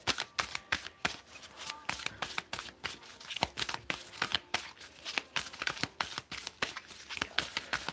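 Tarot cards shuffled by hand in rapid, crisp bursts of riffling and slapping, each flurry close and distinct, repeating steadily with brief gaps and no talk.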